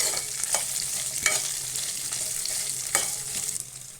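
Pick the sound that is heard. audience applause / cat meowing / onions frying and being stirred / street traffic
onions frying and being stirred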